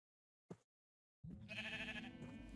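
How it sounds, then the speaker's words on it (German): A sheep in Minecraft gives a single wavering bleat, quiet but clear, after a brief click. "Ein Schaf kommt zu Besuch."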